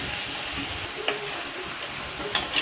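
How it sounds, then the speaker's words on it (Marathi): Basmati rice with salt sautéed in a pan, a steady sizzle and hiss with a few sharp scrapes of the spoon stirring the grains near the end. "आपण यामध्ये पण तांदळाला चव म्हणून थोडंसं मीठ टाकायचं, आणि चांगलं परतून घ्यायचा"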